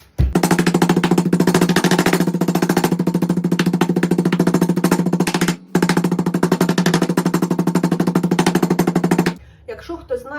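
An old Soviet meat tenderizer pounds meat under plastic film in rapid, loud, relentless blows, one brief pause midway, then stopping near the end; no voices.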